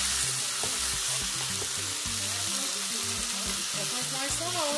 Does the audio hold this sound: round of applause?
no